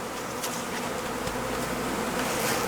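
Honey bees fly around a hive in a continuous close buzzing hum that swells slightly toward the end, with no voices.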